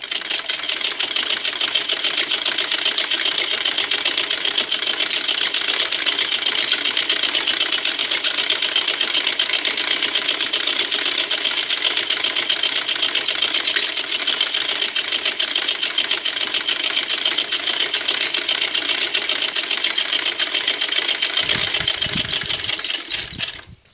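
A sewing machine runs continuously for about twenty seconds, stitching a wavy lahariya pattern into a salwar pouch with a steady, even whir, then stops abruptly with a few handling noises.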